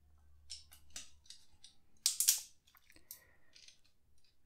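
Small plastic keyboard switch parts being fitted by hand without soldering, giving a scatter of soft clicks, snaps and scratchy handling noises at close range, with one louder burst of rustling clatter midway and brief quiet gaps between.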